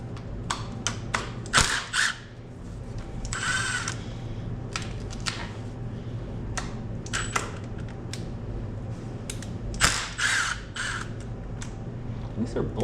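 A ratchet backs out the bolts holding the louvers on a 2025 Triumph TF 250-X motorcycle, giving off quick, close mechanical clicks in short bursts over a steady low background hum.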